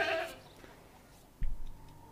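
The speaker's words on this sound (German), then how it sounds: "You guys help me get the goats in here." Goats bleat in the video game Goat Simulator, a short nasal call rising out of quiet game ambience after a brief burst of noise.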